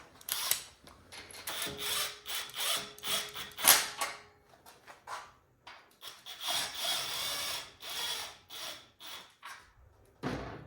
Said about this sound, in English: I start by driving the tensioner nuts back in.